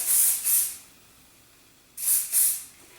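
Two pairs of sharp hairspray bursts onto curled hair, close and loud, with a quiet pause between the pairs.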